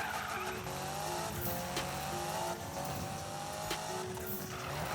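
Car drifting in Need for Speed 2015, tires squealing in long wavering screeches over a steady engine drone, with repeated skids and pitch shifts.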